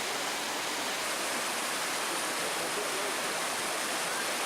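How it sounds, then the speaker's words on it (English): Waterfalls in the Watkins Glen gorge send down a steady broadband roar of rushing, splashing water, constant and fairly close, with no voices over it. "The gorge continues with alternating flat spots and waterfalls, a series of steps."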